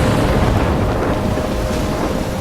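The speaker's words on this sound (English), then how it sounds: "I'm trapped in a storm?" A thunderstorm in the video game Life Is Strange gives a steady, loud wall of rumbling rain and wind, dense and continuous throughout with deep low rumble and no talk.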